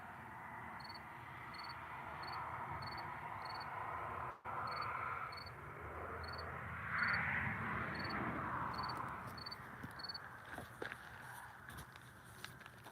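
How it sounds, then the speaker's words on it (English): Crickets chirp in steady repeating pulses at night, moderately distant under a faint background hiss, with occasional soft rustles and footstep-like crackles toward the end. "Crickets are really loud now"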